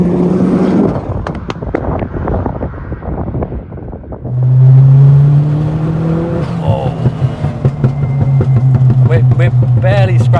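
A Ford Fiesta RS Turbo with a 1.6 CVH engine pulls hard, its engine note climbing steadily in pitch as revs rise toward 4,000, heard from inside the car, while someone talks over it.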